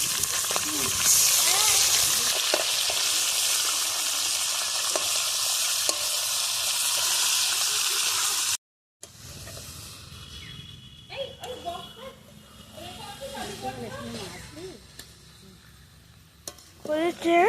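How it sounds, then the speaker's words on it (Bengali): Fish heads fry in hot oil at a feast cookout with a loud, dense, continuous sizzle. After a short gap the sizzle returns softer under people talking and scattered clatter. "বাকি মুড়োগুলো এবার ভেজে নেবো আবার"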